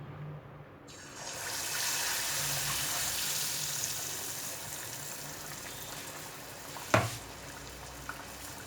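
Battered stuffed nendran banana fritters sizzle in hot oil, teashop-style pazham pori: a steady close crackling hiss that swells after the first second, with a sharp clatter near the end.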